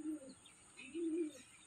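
Soft, low pigeon coos, two short rounds of throaty cooing close by in a quiet setting.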